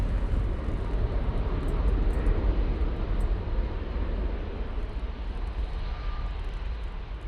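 A Boeing 737 MAX airliner passes near Manchester Airport as a steady, broad jet roar with deep low rumble, holding fairly level throughout with no speech over it.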